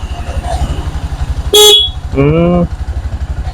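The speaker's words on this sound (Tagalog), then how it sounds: "Busina. Ayun, lakas din ah." Two loud horn blasts from a Bajaj RE auto-rickshaw, a short high beep followed by a longer lower honk, over its steady idling engine.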